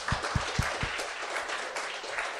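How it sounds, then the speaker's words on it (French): Applause from a live podcast audience, starting with a few distinct sharp claps near the mic and then blending into a softer, moderately distant patter of clapping. "Applaudissez-la!"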